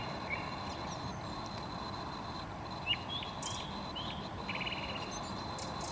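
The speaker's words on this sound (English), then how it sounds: "It's just me and the birds." Birds chirp at sunrise around 6:15 in the morning: scattered short high calls and tweets against a soft steady outdoor hush with faint distant traffic.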